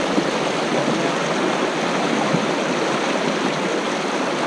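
River water flows steadily in Namibia, a dense, broad rushing wash that stays loud and even throughout with no voices over it.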